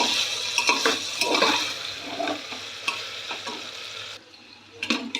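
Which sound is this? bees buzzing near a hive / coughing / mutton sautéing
mutton sautéing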